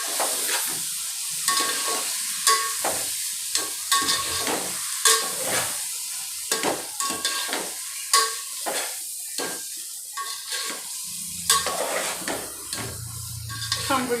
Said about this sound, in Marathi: अंडे छान परतून झाल्यानंतर टमाटे घालायचे,